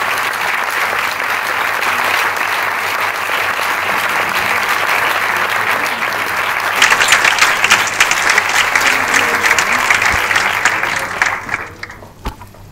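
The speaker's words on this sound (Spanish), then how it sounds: "un fort aplauso per el trabajo hecho" Audience applause after a film screening at an Indigenous film festival opening in Barcelona, a dense, steady clapping that swells louder midway and then fades out near the end.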